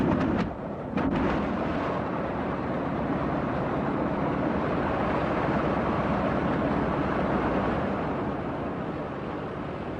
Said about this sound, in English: Starting the 3 BMW radials was a relatively simple thing